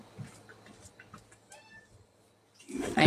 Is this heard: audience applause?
no